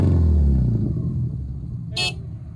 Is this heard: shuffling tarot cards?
no